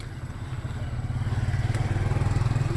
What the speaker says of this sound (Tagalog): Ang motor.